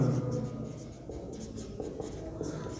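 Chalk scratching and tapping across a classroom board during a Hindi-medium geometry lesson, steady writing strokes with small taps, fairly close and moderately loud over a low room hum.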